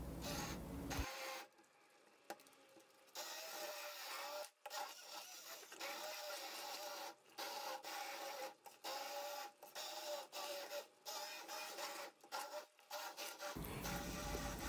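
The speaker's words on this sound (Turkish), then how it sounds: "blenderla sos haline gelene kadar çekelim" A blender purees cooked tomato sauce in a kitchen, its motor running as a steady, fairly loud whir with a brief stop near the start before running on continuously, with no talk over it.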